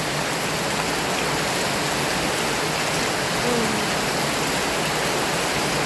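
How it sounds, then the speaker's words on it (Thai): Heavy rain pours steadily in a dense, loud, unbroken hiss that stays constant throughout without any pause. "ฝนเอ้ยทำไมถึงตก ตกทั้งวี่ทั้งวันเลยจ้า"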